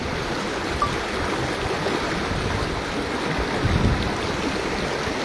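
A flash-flood torrent rushes from rain in the Koh-e-Suleman hills, a dense, continuous roar of churning water, loud and steady throughout with no pauses.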